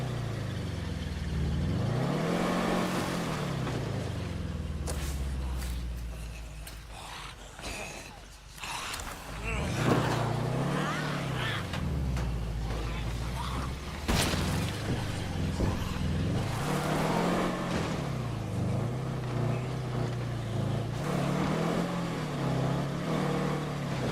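Vehicle engine in State of Decay 2, a battered car with a lost door, droning steadily with rising and falling revs and mechanical rattles across the whole stretch, loud and close.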